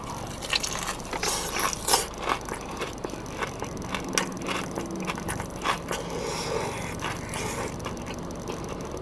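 Loud crunchy bites and chewing on crispy fried chicken, several crackling crunches close to the mic, no talking.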